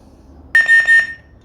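A FX lightsaber by Sabertrio gives three quick, loud, high electronic beeps in close succession as it switches mode, alone against near silence.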